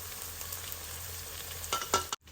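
Onions frying in a pan with fenugreek powder: a steady, moderate sizzle runs throughout, then a few louder stirring scrapes come near the end before a sudden cut-off.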